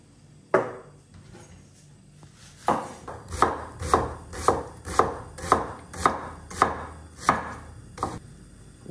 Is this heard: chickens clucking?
no